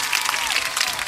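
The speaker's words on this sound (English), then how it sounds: "I'm gonna give us all a round of applause" A brief burst of applause, dense overlapping claps from a small group, close and fairly loud.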